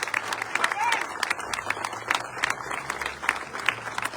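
At a political party inauguration in Paraíso, Tabasco, a crowd applauds the state governor, rather distant, uneven clapping with sharp individual claps standing out and voices calling out across the gathering.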